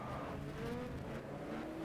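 Race car in the sim racing game GTR 2 locks up and skids under braking, a brief low engine drone with tire scrubbing beneath it, steady and moderately quiet.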